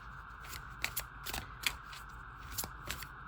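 Tarot cards are shuffled close up in quick riffling bursts, several crisp flicks and slaps in an uneven rhythm, with no talking.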